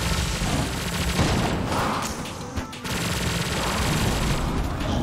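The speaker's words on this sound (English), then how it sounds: "Semi-automatic sniper." Semi-automatic sniper rifle firing in Enter the Gungeon, dense loud gunfire bursts packed together over game music and effects, with a brief lull partway through before the shooting resumes.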